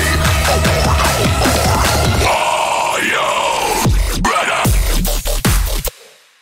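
A dubstep build-up blends dense synths and drums with a harsh, screamed metal-style vocal, rising and thickening before breaking into stuttering hits and cutting off abruptly, loud throughout.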